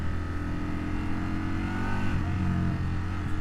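A 2025 Indian Sport Scout motorcycle engine holds high RPM in first gear, a loud, continuous droning rumble with steady throttle and no voices.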